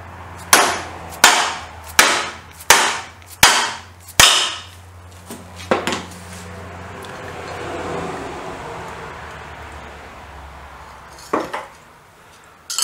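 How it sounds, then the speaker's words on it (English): A brass hammer knocks a part out of a BSA B44 trials motorcycle: about six sharp, loud metallic blows in a steady rhythm, then a few scattered lighter taps and a final pair of strikes after a quiet stretch. "We'll use the brass hammer."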